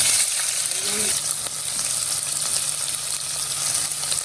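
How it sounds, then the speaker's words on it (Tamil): Onions fry in hot oil with fennel seeds for a goat head curry, with a loud, steady sizzle and hiss that continues throughout. "வெங்காயத்தை போட்டு வணக்கிக்கலாம்"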